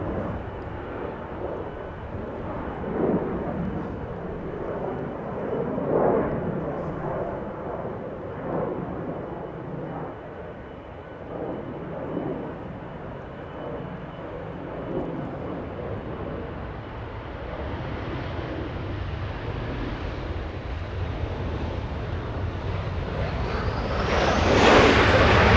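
An American Airlines A321 arrives at Los Angeles airport, its jet noise a steady distant rush that gradually grows louder and peaks near the end as it passes closer.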